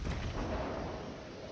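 Heavy battleship gun firing in World of Warships, from the Ishizuchi, a deep booming blast that rumbles and slowly decays over a second and a half, loud and close with no talk.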